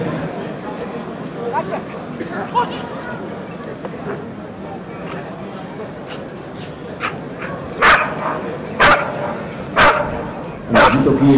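A police dog barking during a KNPV bitework test, a series of sharp, loud barks spaced out over the final seconds above a Dutch commentator talking and background scuffling.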